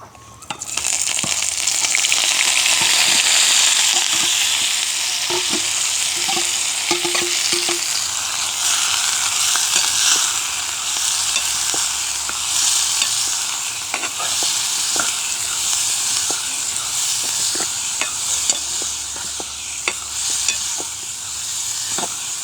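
Onion and green chillies sautéing in a pan for onion roti, a continuous loud sizzle with frequent scraping and stirring clicks from a spatula, close and steady with no speech.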